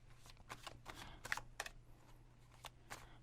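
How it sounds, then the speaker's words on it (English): Tarot cards being shuffled by hand, a series of soft, quick riffling bursts and light flicks, faint and close, with no talking over them. "Let me just shuffle, although I have already shuffled, but I would still like to shuffle more."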